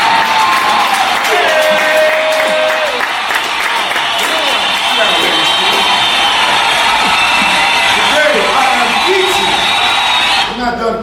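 A club or live-show crowd applauding and cheering for a performer, with loud sustained clapping, whoops and yells mixed with shouting voices throughout before fading at the end.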